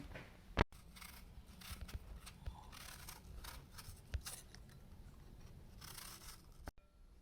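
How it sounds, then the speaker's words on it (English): Honeycrisp apples being peeled and sliced by hand, giving soft close scraping and rubbing sounds with a few sharp clicks and knocks, quiet and intermittent with no speech. "Now I'm going to peel and slice them."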